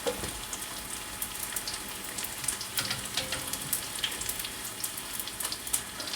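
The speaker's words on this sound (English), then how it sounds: "And I'm just going to let them fry until they're golden brown" Beef and potato sambusas frying in hot oil, a dense crackling sizzle with bright spitting pops throughout, close and steady with no voices.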